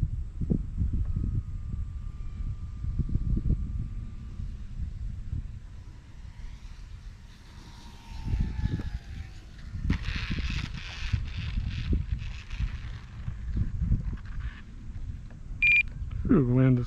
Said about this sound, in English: wind is crazy